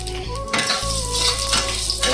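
Five-spice seeds and dried red chillies sizzling in hot oil in a wok, a loud close crackle that swells after a brief stir, with light clatter of utensil on pan and no talking.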